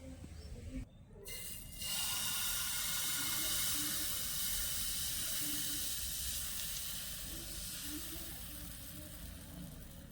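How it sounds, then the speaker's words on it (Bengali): Patishapta pitha batter ladled onto a lightly oiled pan on a gas stove breaks into a steady, close sizzle after about two seconds and keeps hissing evenly to the end, with no talking. "এবার আমি গ্যাসের উপর একটা খোলা বসিয়ে দিয়েছি হালকা একটু তেল আমি ব্রাশ করে নিচ্ছি"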